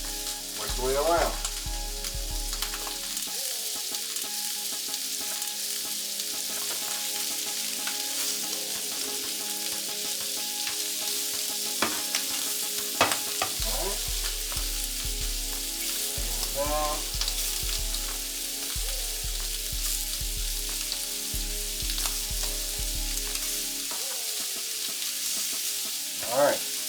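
Shrimp sizzling steadily in a hot pan for shrimp scampi, a continuous bright frying hiss with occasional crackles and soft utensil clinks, close and even throughout.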